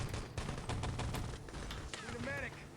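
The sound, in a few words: MG42 machine gun fire in a video game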